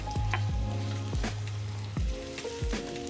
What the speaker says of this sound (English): So now we just go ahead and add our onions.